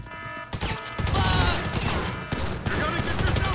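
Dense video-game gunfire from Grand Theft Auto 5 during a facility security shootout: loud, continuous rapid bursts with crashes and a busy mix, close and overlapping, with brief voices underneath.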